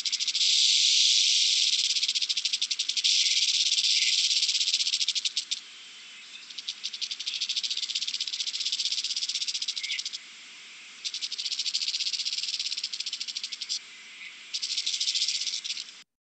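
A Pinelands rattlesnake's dry, buzzing rattle goes on steadily with a few brief pauses, loud and close with no other sounds.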